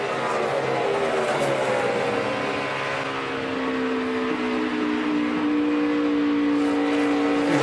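A NASCAR Nationwide Series stock car at Atlanta holding a high, steady engine drone at speed, with a slight easing and return of throttle as the pitch dips and climbs, loud and continuous without talk.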